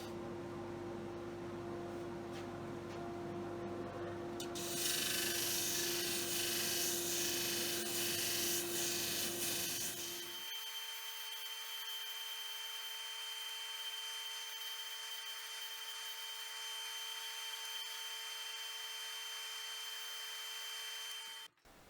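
A finger sander grinds continuously with a steady mechanical hum while working on a handmade panel hammer. The grinding gets louder and rougher for a few seconds, then settles back into a thinner, even whine.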